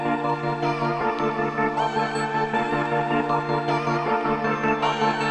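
A beat loop made on an MPC Live 2, resampled and pitched up two steps, plays as a dense, steady, sustained layered texture with a repeating pulse and no talking.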